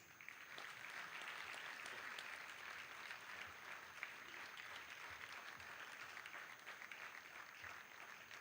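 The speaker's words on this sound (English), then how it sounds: "Let's have a big round of applause." Steady, sustained audience applause fills an award ceremony at an Income Tax Day celebration, a dense wash of clapping from a sizable crowd that holds at an even level throughout without any talking.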